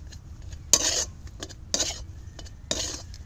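Potato filling for aloo chop being stirred in a kadai, with a few distinct scraping strokes of a utensil against the pan over a faint low background.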